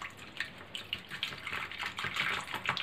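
Detergent powder being stirred into water by hand to work up foam, a soft, close sloshing and swishing of liquid that continues steadily throughout with no talk.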